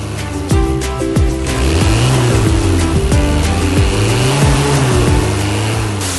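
A toy car's engine revs loudly and steadily, its pitch sweeping up and down in repeated swoops over a constant drone, with no voices.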